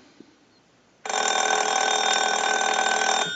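A Spirit of St. Louis telephone's ringer bursts into one sustained, bright metallic ring after a second of quiet, then cuts off cleanly. It is close and loud, with no talking.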